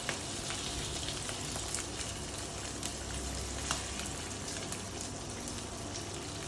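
Supreme of chicken sizzles in a frying pan, a dense continuous crackle and hiss with scattered sharp pops, close and steady throughout with no talking.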